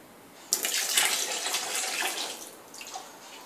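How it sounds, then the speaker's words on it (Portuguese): Bath water splashing and sloshing as a doll is bathed in a foam bath, starting with a sudden burst of churning water that continues in irregular splashes, fairly close and moderately loud with no talking. "mostra pro pessoal como é que você dá banho na boneca"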